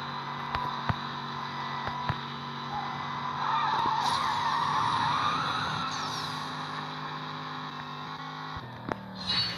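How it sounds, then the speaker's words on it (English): A car drifting in the racing game Need for Speed No Limits, with a sustained tire skid and squeal over the engine drone and a few sharp clicks along the way. "I see a lot of drift."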